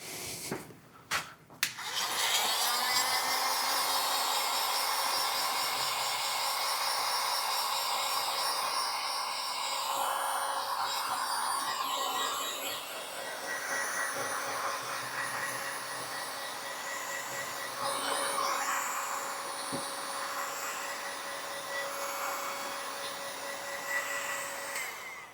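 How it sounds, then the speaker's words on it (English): Heat gun blowing hot air to dry a speedometer instrument part from a BMW Airhead motorcycle, a steady loud whirring blast that runs continuously after a few sharp clicks at the start. "we're just going to dry this a little bit. I guess I'll get my heat gun."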